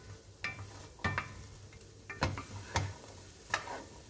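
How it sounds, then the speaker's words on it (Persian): Potato and egg frying in a Teflon pan, stirred gently with a utensil so that about six separate scraping strokes sound close up over a soft, steady sizzle, with no one talking. "بعد به آرومی هم میزنید تا از کف تابه جدا بشه"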